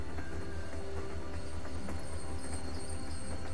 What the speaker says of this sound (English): Train's very loud as well.